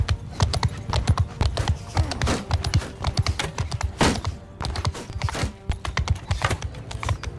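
Rapid hoofbeats of a galloping horse in the video game Mount & Blade II: Bannerlord clatter steadily throughout, close and rhythmic, with occasional sharper thuds mixed in.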